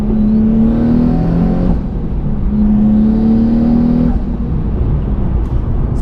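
A 650whp twin turbo Nissan NISMO 370Z engine drones loudly and steadily, revving in two long surges with a deep throaty exhaust note and a brief whooshing blow-off valve release between pulls.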